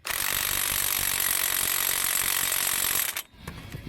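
A DeWalt cordless impact wrench works on the pinion nut of a Dana 30 axle on a 1989 Cherokee, giving a loud, continuous rattling hammer for about three seconds before cutting off abruptly.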